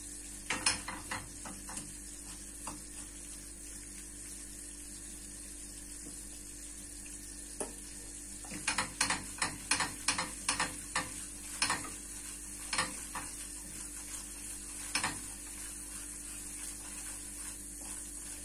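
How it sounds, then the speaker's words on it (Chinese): Cornmeal is stir-fried in oil in a pan for kuymak: a faint steady frying hiss sits under sharp spatula scrapes and clicks that bunch up in quick flurries midway. "把它炒油，把它炒熟，差不多有一点变黄变色了"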